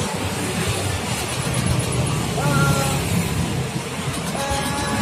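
A Honda Vario 150 scooter engine with an ignition fault runs steadily throughout, a continuous close mechanical drone with faint voices in the background.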